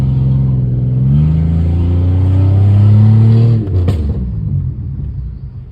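A Pontiac car with its catalytic converters removed revs up, its deep engine note rising and holding loud and close before cutting off with a sharp click and dropping back to a lower idle rumble.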